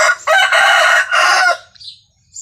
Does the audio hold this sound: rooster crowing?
yes